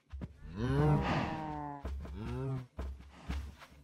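A Minecraft cow moos loudly and long, followed by two shorter moos close by, with a faint step or two between calls.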